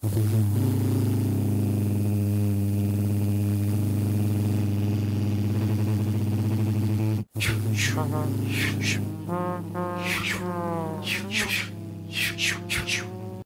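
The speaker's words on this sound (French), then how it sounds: "on va mettre du bruit de véhicule qui est un petit peu au loin pour créer de l'emphase" A vehicle engine drones steadily at a distance as an added background sound effect, a low continuous hum that keeps going while a voice speaks over it in the second half.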